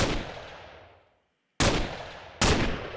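M14 rifle fire in Minecraft, three single loud close shots, each with a sharp crack and a decaying tail, the first fading to silence before two more follow about a second apart.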